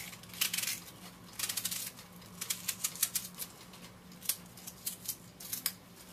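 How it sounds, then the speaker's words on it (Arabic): Onions being cut for a Djerbian stuffed dish, heard as a series of quick, crisp knife strokes in short bursts, close and fairly quiet, with brief pauses between runs and no talking. "يلا نجي نقص البصل"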